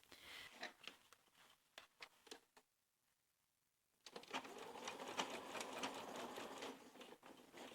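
Sewing machine stitches a corner of a denim overalls side pocket at short stitch length in quick rhythmic bursts, stops briefly for the fabric to be pivoted, then runs again steadily, close and faint with no talking.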